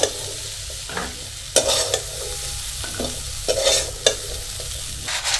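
Spices being stirred into crispy fried corn kernels in a pan, with a steady soft sizzle underneath and several distinct scraping stirs at intervals, close and fairly quiet, no talking.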